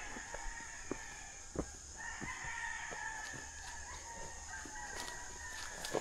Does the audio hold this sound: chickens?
yes